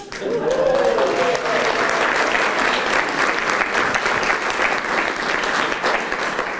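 Audience applause at a stand-up comedy show fills the room, a dense continuous clapping that holds steady for several seconds, with a brief voice near the start.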